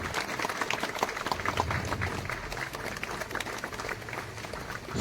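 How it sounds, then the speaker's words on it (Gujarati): Audience clapping at a motivational speech event in Surat, a steady dense patter of many hands sustained throughout, filling the room at moderate loudness. "તાળીઓના ગડગડાટથી આપણે વધાવી લઈશું."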